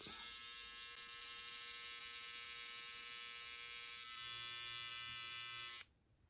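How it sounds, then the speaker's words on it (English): An electric shaver buzzes steadily close by as it shaves off a mustache, its tone shifting slightly partway through before it stops abruptly near the end. "we're gonna shave this off real quick"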